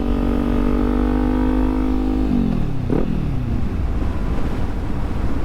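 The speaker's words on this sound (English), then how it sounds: "we're gonna just go down second gear, and we're just gonna let the bike coast to its stop" Motorcycle engine braking in second gear as the bike coasts to a stop, a loud close engine note holding steady, then dropping in pitch with a quick shift blip and fading into a low idle rumble.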